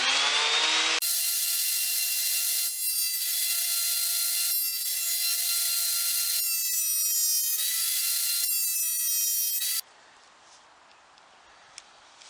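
A wood planer takes narrow cuts on stock for a replacement drawer, running as a steady loud whine with rhythmic surges for about ten seconds before it shuts off and only faint room noise remains.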